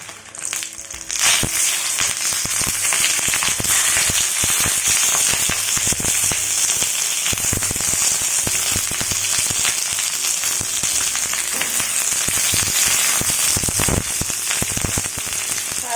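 Fish fried Kerala style on a banana leaf sizzles and crackles loudly in a hot pan, a dense continuous frying hiss with sharp pops throughout.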